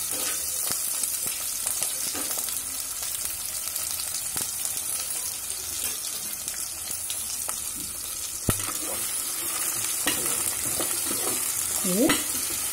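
Onions frying in oil in a pan for Andhra puri curry, a continuous close sizzle with scraping and knocks of a spoon as they are stirred, one sharper clack midway.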